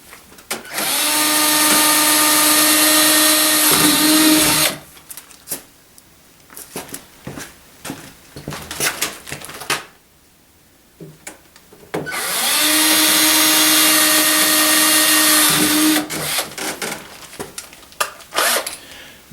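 Power drill boring holes into a sled for a DIY portable ice fishing shelter, with two long, loud, steady whining bursts of several seconds each, separated by clatter, handling noises and brief pauses.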